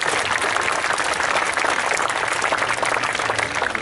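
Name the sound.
applause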